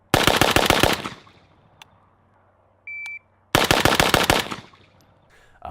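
A Rifle Dynamics 704M AK rifle in 7.62 with a muzzle brake fires two rapid strings of loud, sharp shots close by, each followed by echoing decay, with a short electronic beep between them.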